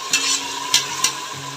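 Mutton masala with tomatoes sautés in a pan for biryani, a low sizzle broken by three quick scraping strokes of a spoon stirring close by.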